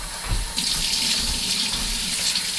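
Tap water pours steadily into a sink or pot to soak dry beans for an oxtail stew, close and continuous, with a brief splashing change partway through.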